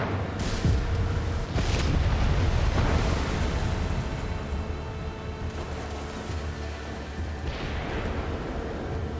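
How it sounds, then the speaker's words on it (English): Fireworks and mine explosions in the video game Far Cry 6 boom and crackle in a dense, continuous barrage, with several sharp blasts standing out over a rumbling roar. "Check out the fireworks."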